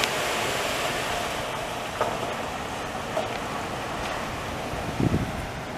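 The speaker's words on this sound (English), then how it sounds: "When it's warmer than normal in the winter, it's always windy" Wind blows along a Montreal street on a mild winter day, a continuous broad rush buffeting the microphone, with a few brief gusts or thumps and no voices.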